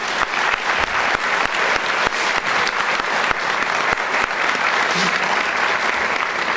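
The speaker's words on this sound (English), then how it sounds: "let's give him a round of applause anyway" A loud, steady round of applause from the audience at Woodbridge Township's 2018 State of the Township Address, dense clapping running unbroken for several seconds with no voices on top.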